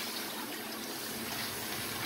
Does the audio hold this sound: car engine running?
no